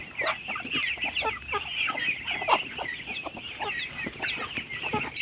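Caged chickens kept as farm stock cluck steadily and overlap one another, a dense, close chorus of short clucks that runs without a break and has no talk over it.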